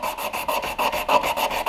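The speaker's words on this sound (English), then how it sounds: "I'm just going to sand this surface, kind of rough it up a little bit" Rapid, rhythmic rasping strokes of sandpaper scrubbing forge scale off the surface of a hand-forged knife blade, about ten even back-and-forth passes, close and fairly loud with nothing else over them.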